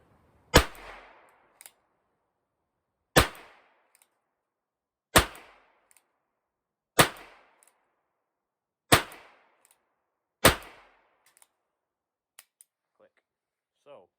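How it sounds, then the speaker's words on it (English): Ruger Wrangler .22lr revolver in bronze Cerakote fired outdoors in freezing weather at tin cans: six sharp, evenly spaced cracks roughly two seconds apart, each with a short ringing tail, then a few faint clicks. "So I'm out here just shooting at a couple of tin cans."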